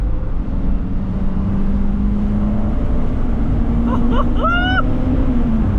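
A car engine pulling hard in second gear around 40, a loud steady drone rising slightly in pitch as it accelerates, with brief higher whines near the end.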